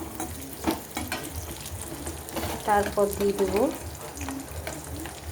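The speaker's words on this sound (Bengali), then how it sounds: "পেঁয়াজটাকে আমি হালকা করে ভেজে নেব" Onion sizzles and crackles steadily in oil in a pan as it fries lightly, with stirring scrapes and a voice talking quietly over it.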